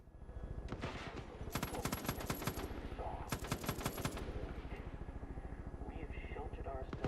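Bursts of rapid automatic gunfire in a video game, with rattling volleys around the one- to two-second mark and again near three to four seconds, loud and close, while people talk over and between the shots.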